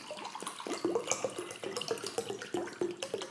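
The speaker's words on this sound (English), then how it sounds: "Did you fucking have to hit record before you filled the water bottles up?" Water bottles are filled from a tap: a quiet, close trickle and splash of running water with small irregular drips and gurgles over a few seconds, without any talking.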